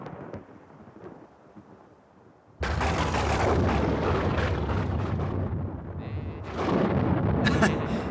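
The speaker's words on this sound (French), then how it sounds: "Tu entends le tonnerre? Ça vient vers nous." Cartoon thunder in the children's animation Tractor Tom: after a quiet, faintly murmuring stretch, a loud rolling rumble crashes in suddenly and keeps booming for several seconds, swelling again near the end.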